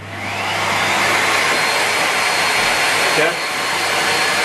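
A Miele Complete C3 vacuum cleaner runs loud and steady with a constant broadband whoosh and motor hum, briefly dipping in pitch near the end; a short spoken word is heard.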